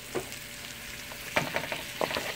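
Three to four medium tomatoes go into frying chicken karahi masala, bringing a quiet sizzle with a few soft stirring knocks and scrapes close by.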